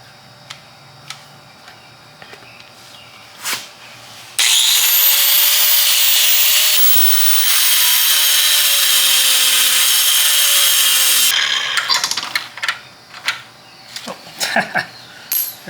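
A clip-nut being cut out, pried and pulled: a loud, steady high-pitched cutting whine runs for several seconds, with scattered clicks, taps and scraping before and after it, close up and with no talk.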